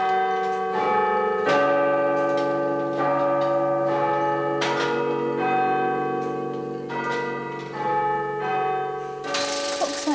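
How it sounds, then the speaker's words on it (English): A tower clock sounding the Westminster chime on the quarter hour, with ringing bell tones struck one after another in a slow melodic sequence, their long ringing tails overlapping in a resonant, sustained wash. "the far section is the chimes that does the Westminster chime"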